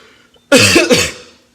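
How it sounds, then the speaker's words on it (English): A single close, loud cough with two quick bursts, harsh and throaty, with no talking around it. "it's turned into a cough"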